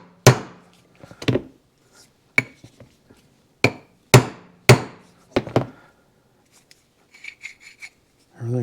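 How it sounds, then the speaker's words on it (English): A brass hammer strikes an axle nut on a Yamaha DT2 250MX motorcycle, landing about eight sharp, close metallic blows at uneven intervals with quiet gaps between them and faint handling noises near the end. "I'm gonna try to hit it with the brass hammer a little."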